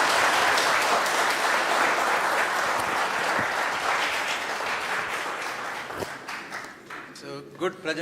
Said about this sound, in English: Good presentation as indicated by the applause from the audience.